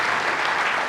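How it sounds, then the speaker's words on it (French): A dense, steady wash of crowd applause at a political rally for university students and activists, continuous and fairly loud with no gaps. "sous vos applaudissements, chers étudiants, chers militants"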